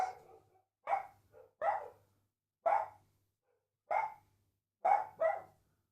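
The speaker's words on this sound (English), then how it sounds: "All of the local dogs are going off." Local dogs bark in a neighborhood, heard at a distance: a series of about eight separate sharp woofs in irregular bursts, some in quick pairs, with silence between them.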